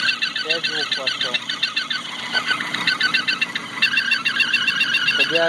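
A Chevrolet Aveo T250 engine with faulty cam phase shifters gives off a steady high-pitched whistle that runs throughout, overlaid with chirping, squeaky tones.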